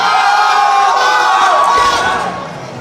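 A large crowd cheers loudly for a powerlifter at a national powerlifting competition in the Philippines, a dense roar of shouts and whoops that fades slightly toward the end.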